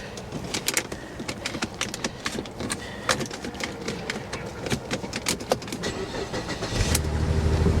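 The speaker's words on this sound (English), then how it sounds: "she's misfiring pretty bad" A cheap running Corvette convertible at a salvage auction yard idles with a rough, misfiring engine: a low rumble broken by irregular sharp pops and ticks, growing louder toward the end.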